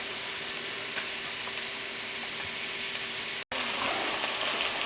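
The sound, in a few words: onions frying in a pan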